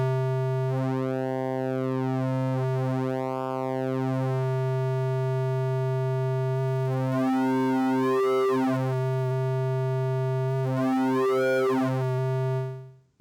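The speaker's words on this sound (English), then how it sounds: "modern is more of a distortion type to the waveform, which adds a warp and a fold" Wavetable synthesizer oscillator with modern warp and fold distortion holds a steady low tone while bright harmonics sweep up and down in repeated arcs, swelling then easing back before cutting off sharply at the end.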